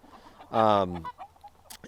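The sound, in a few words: chickens clucking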